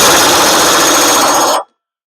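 Loud, continuous hammering of an impact wrench tightening a blade spindle on a Poulan Pro lawn tractor, held for about a second and a half before stopping abruptly into silence.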